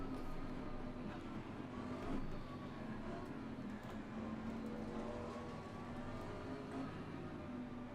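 Race car engines in Assetto Corsa Competizione roar steadily at the green-light start, a dense, continuous drone with a rising tone, heard alone without speech.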